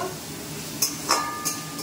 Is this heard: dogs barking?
no